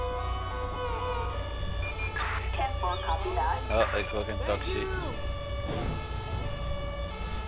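An ambulance siren in the GTA 5 video game, a continuous wailing tone running steadily under engine rumble and a person speaking Dutch, held at a moderate level throughout.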